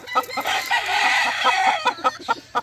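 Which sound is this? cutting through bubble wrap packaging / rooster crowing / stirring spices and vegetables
rooster crowing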